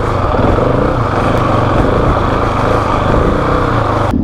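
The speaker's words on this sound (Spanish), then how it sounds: "Mira cómo pasa María con su moto" A KTM 690 Enduro R motorcycle climbs a rocky trail, its engine roaring loud and steady throughout, close to the listener, with no speech.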